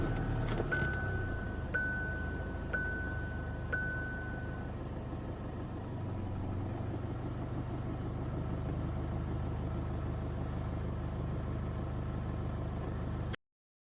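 A car engine idles with a steady low hum after restarting, while a few short electronic chimes ring near the start and no one speaks.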